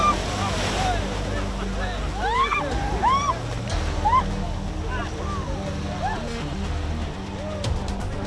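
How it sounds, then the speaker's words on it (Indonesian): Large ocean waves surge and crash around a small wooden fishing boat off the Java coast, a steady roar of surf and splashing water with wind noise, while voices shout excitedly over it. "Namun ombak besar tiba-tiba datang."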